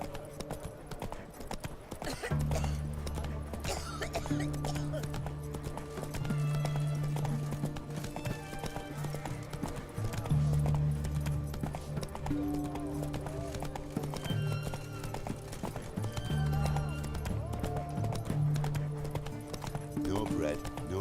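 A horse in The Witcher 3 clip-clops along in a steady rhythmic gait, hooves drumming close and fairly loud beneath a droning music bed, with no talking in the stretch.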